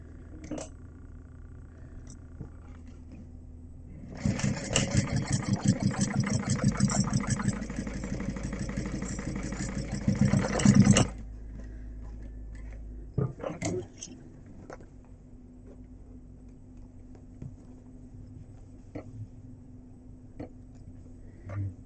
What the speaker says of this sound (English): now we're going to stitch that together